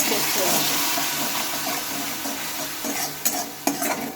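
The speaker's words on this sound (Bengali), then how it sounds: "দেখো মশলাটা তো আমি ভালোভাবে কষিয়ে নিই" Spice paste is sautéed and stirred in a pan with a little water and salt for a Bengali recipe. A continuous close sizzle runs throughout, joined near the end by a couple of sharp spatula knocks.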